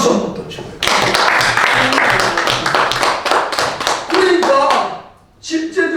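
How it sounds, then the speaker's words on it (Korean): Loud, close audience clapping at a business lecture, a steady rhythmic patter of many hands that dips briefly near the end and then resumes. "박수 한번 더 쳐요."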